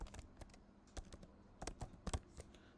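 Someone types a SQL query on a computer keyboard, producing soft, irregular clusters of key clicks with short pauses between bursts, close and quiet.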